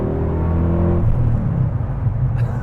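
A Porsche Panamera's engine runs with a deep, steady rumble close by. It holds an even drone, then settles into a rougher, lower idle.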